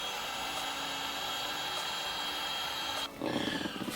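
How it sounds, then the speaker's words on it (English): A heat gun blows hot air to shrink a heat-shrink wire cover over the wiring of a switch-adapted light-up learning vacuum toy. It makes a steady, loud, roaring whoosh that shifts to a rougher, louder rush near the end. "I'm going to use a heat gun to shrink that wire cover down."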